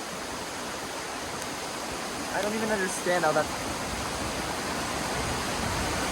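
Waterfall beside the Atlantic coast in Cape Breton, Nova Scotia: a constant, dense rushing hiss of falling water fills the whole stretch, and a person speaks briefly midway over it.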